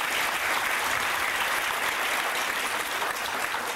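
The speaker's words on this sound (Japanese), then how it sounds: "正木先生に感謝の意味を込めまして盛大な拍手をしていただきます" An audience gives sustained, enthusiastic applause to thank a speaker, Masaki-sensei, at a talk, with many hands clapping in a dense, steady roar for the whole stretch.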